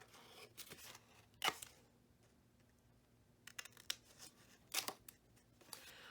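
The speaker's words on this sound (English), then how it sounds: "Bring in your scissors, trim out the corners." Scissors trimming the corners of a paper farmhouse folio in a quiet room, a few short crisp snips and rustles spaced out with pauses between them.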